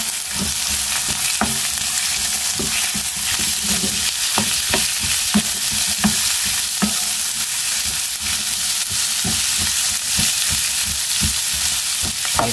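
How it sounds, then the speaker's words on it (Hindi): Chopped onions fry steadily in a pan for a shallow light-brown fry. The loud, continuous sizzle runs throughout, broken by the scrape and clatter of frequent stirring, with no talking. "जो से ऑनियन है वो इसको फ्राई करेंगे।"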